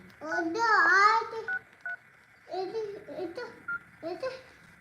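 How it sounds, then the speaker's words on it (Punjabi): Several phone keypad tones beep in short separate presses while a young child babbles and chatters nearby. "ਲਾਉਣੇ ਆ ਦਾਦੀ ਨੂੰ ਫੋਨ ਲਾਉਣੇ ਆਪਾਂ"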